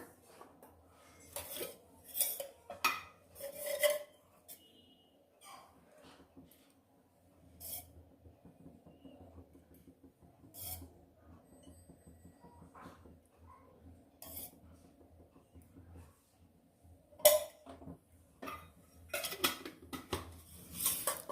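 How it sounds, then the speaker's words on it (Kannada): A pressure cooker being set on a stove and oil poured in while making groundnut potato sambhar brings scattered metallic clinks and knocks of pots and utensils, with quiet gaps between them. "ಈಗ ಸ್ಟವ್ ಮೇಲೆ ಕುಕ್ಕರ್ ಇಟ್ಕೊಂಡು ಒಂದು 2 ರಿಂದ 3 ಟೀ ಸ್ಪೂನಷ್ಟು ಎಣ್ಣೆ ಹಾಕ್ಕೊಂಬರೋಣ"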